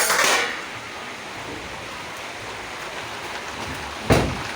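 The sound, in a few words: rain falling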